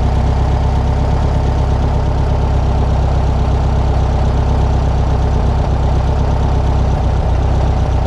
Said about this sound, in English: when I start turning in the mixture screw, you'll hear the motor start to drop.